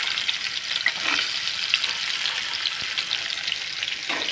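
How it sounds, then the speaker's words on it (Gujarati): Chopped spiny gourd tumbles into garlic frying in a pan, setting off a steady, dense sizzle with faint stirring scrapes throughout, close and fairly loud, with no voices. "લસણ સાંકળી જાય પછી તેમાં આપણે કંટોલા નાખી દઈશું."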